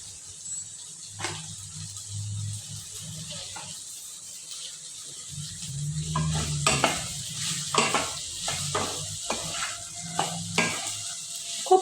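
Okra stir-fried in a pan with salt for a simple diet bhaji, a soft sizzle under repeated scraping and stirring strokes that grow busier toward the end, with a few small clatters and no voices.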